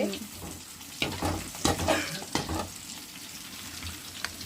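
Tempering spices sizzle and crackle in hot oil in a pan, a fairly quiet steady hiss with several sharper bursts of spattering, heard close up without talk.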